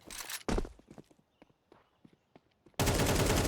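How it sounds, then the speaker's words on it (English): An AWP sniper rifle in a Counter-Strike match cracks out in two loud, sharp shots at the start, then quieter clicks and footstep-like taps, before a final heavy blast closes the stretch. "A rare sniper shot in this series so far"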